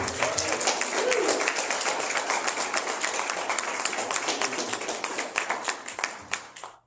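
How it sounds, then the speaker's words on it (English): A room full of people claps steadily, dense applause that thins out into scattered claps before stopping. "First, a round of applause."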